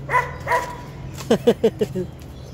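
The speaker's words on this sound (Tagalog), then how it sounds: "Wala, galit yung aso." A voice speaks briefly, then a dog barks five times in a quick, loud burst nearby.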